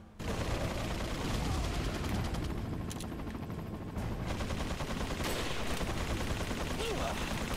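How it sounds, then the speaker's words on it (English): Sustained rifle fire in Resident Evil 4, a dense run of rapid shots over a busy, loud game background, continuing without pause. "So this is a good time for the rifle."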